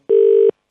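A single telephone dialing tone sounds once, clean and steady for under half a second, followed by a faint brief sound.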